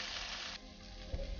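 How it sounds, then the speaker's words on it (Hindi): Partly cooked rice tipped into a pot of sizzling mixed vegetables for veg biryani: a steady close frying hiss that softens halfway through, followed by a brief dull thump as the rice lands, with no voices. "अब जो ये चावल हमने कुक किया था वो इसके अंदर डाल देंगे सारे"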